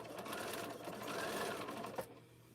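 Sewing machine stitching a 1/4 inch seam along a t-shirt quilt border, a steady close whirring hum that runs evenly for about two seconds before stopping with a small clunk.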